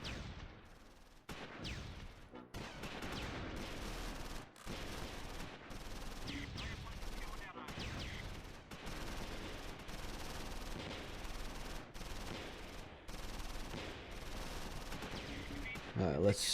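Gunfire in the WWII tactics game Close Combat, dense bursts of rifle and machine-gun fire with distant explosive thuds, continuous and rattling throughout at moderate volume.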